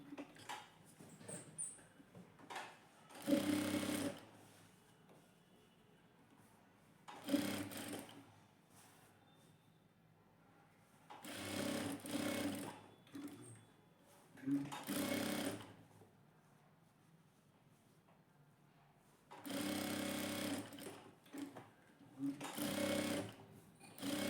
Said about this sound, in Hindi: अब यहाँ पर हम अपनी फाइनल सिलाई देंगे।